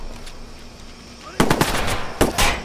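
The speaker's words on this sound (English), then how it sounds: "Shots! You're in the line of fire!" Rapid bursts of automatic gunfire in the video game Watch Dogs, a long loud volley followed by a shorter second burst after a quieter lead-in.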